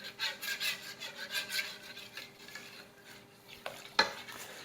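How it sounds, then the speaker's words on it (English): A spoon scrapes and stirs boxed cheesy potatoes in a hot pot in rhythmic strokes, with soft sizzling underneath and a couple of sharper clinks near the end, close up and with no talk. "You gotta keep stirring so nothing sticks to the bottom."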